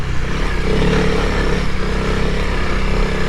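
A Honda CRF300L dual-sport motorcycle being ridden off-road through sand, its engine droning loud and steady from close by, with no voices.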